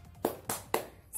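Children's rhythmic tepuk semangat clapping chant in a second-grade class: three sharp, evenly spaced claps close by, with a fourth starting at the end.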